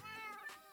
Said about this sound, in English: Hello, cat.